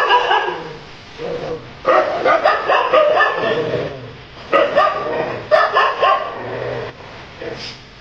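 Several farm dogs bark angrily in repeated bursts, with yips and an occasional whimper between them, loud and fairly close.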